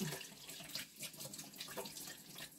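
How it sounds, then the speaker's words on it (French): Water from a kitchen sink tap runs steadily as hands are washed under it, a soft continuous splashing at close range with no talking. "Je vais me laver les mains."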